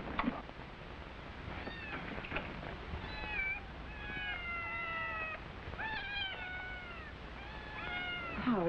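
Several cats meow in a quiet room, rising and falling cries overlapping at a moderate distance over faint background hiss, with no talking.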